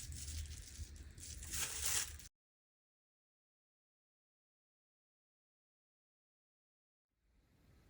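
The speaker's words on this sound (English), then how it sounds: "So I'm just going to finish crumpling up these edges." Paper edges being crumpled by hand in close, dense crinkling bursts for about two seconds, then the sound stops abruptly into silence before a faint rustle returns near the end.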